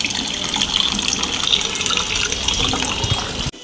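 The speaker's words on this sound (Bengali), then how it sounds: "টাইম কলের জলও চলে এসছে জল পড়ছে ওখানে" Water pours steadily from a timed municipal tap in a continuous, fairly loud rushing splash. It runs unbroken for several seconds and cuts off abruptly at the end, with no voices.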